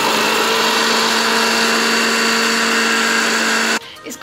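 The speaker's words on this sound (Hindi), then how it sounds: "अब इसको मैं ग्राइंड कर लूँगी" Juicer blender grinds egg, vinegar, salt and sugar into mayonnaise, a loud steady motor whine running continuously up close before cutting off abruptly near the end.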